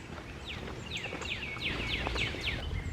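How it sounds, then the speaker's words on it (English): Pileated woodpecker giving a quick run of sharp, repeated calls at moderate distance outdoors, over a steady wash of fast-flowing creek water. "That is a pileated woodpecker."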